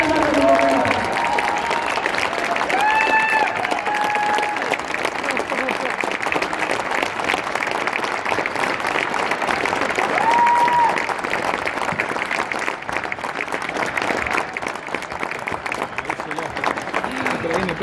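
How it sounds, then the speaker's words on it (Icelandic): Sustained applause from a crowd celebrating a youth basketball cup win in Iceland fills the whole stretch, dense and steady clapping with a few faint tones rising above it. "Gerum við eitthvað gott klapp"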